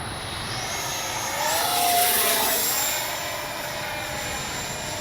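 Freewing JAS-39 Gripen 80mm electric ducted-fan RC jet making a gear-down pass overhead, a steady whooshing whine that swells as it nears, peaks around two seconds, then fades as it passes, with no talk.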